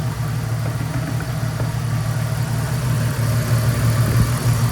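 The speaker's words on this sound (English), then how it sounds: "Water pump is sounding way better." A Jeep Wrangler TJ's 4.0L engine idles steadily with a freshly replaced water pump, a continuous low rumble with a smooth even hum close up and loud, no voices over it.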